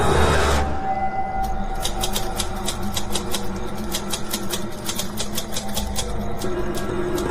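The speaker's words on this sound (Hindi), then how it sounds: "टाइपराइटर की बटन दबने की आवाज सुनाई दे रही थी" Rapid, crisp clacking of typewriter keys being pressed, a steady run of sharp strikes over a dense background hum, close and fairly loud.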